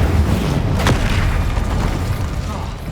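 Spell blasts from Bombarda, Incendio and Confringo explode in Hogwarts Legacy, a dense run of booming impacts over a steady low rumble, with one sharp burst near the start and chanted spell names heard under the action.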